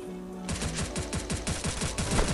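Rapid automatic gunfire from the Free Fire video game bursts in abruptly after a brief quiet moment, then continues as a fast, steady stream of loud shots.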